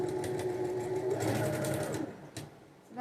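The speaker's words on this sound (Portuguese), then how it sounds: "E vou passar uma costura." A sewing machine stitches a seam while making a fabric toiletry bag, a steady, close, continuous mechanical whirr that runs for about two seconds and then stops.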